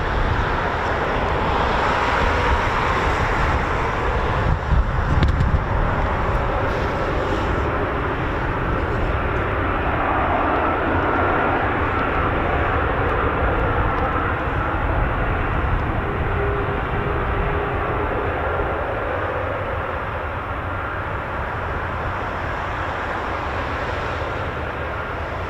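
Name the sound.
US Air Force military aircraft engines at an air show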